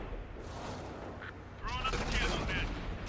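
Tank cannon fire from an M46 Patton in a video game: a sharp, loud blast with a rumbling tail midway through the clip, layered over continuous game background noise.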